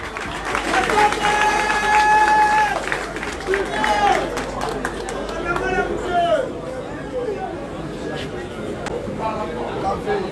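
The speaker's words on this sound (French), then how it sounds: "Sous vos applaudissements, bien sûr." An audience applauds the mayor as he steps up to give a welcome at a municipal gathering: steady, dense clapping fills the room for the full stretch, with scattered shouts and crowd chatter rising over it.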